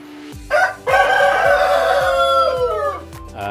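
A rooster, part of a broiler and Rhode Island Red breeding flock, crows once loudly and close by, a long drawn-out call following a brief cluck.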